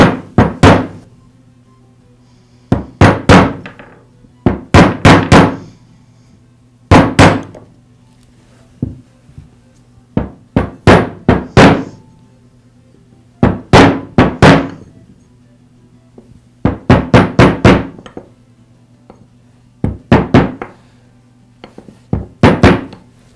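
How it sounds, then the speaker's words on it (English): A socket is used to tap an oil seal into the crankcase of an Echo string trimmer, producing sharp, loud metallic taps in quick clusters of two to four, separated by short pauses, close up with a faint background hum. "tap the seal in place"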